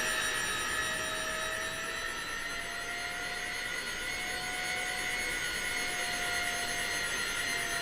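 E-flite A-10 64mm electric ducted-fan RC jet on a low pass, a continuous high-pitched whine with shifting tones held at a fairly faint, steady level throughout, heard at some distance.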